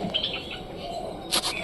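Pigeons call inside their loft, a few short chirping notes coming in quick bursts at close range, with a brighter cluster near the end and no one speaking.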